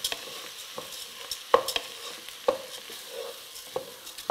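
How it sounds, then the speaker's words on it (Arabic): Red lentils being stirred and fried in a pot for lentil soup, giving soft sizzling with several sharp spoon scrapes and clinks spread through the stir, close up, no voices. "فوالا كم تشوفوا نقلي حتى العدس معاها"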